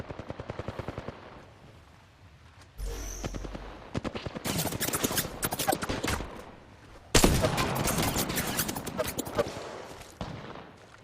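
Automatic gunfire in Apex Legends, sporadic at first, then intense close bursts of rapid shots with sharp cracks and a few pauses, under light talk.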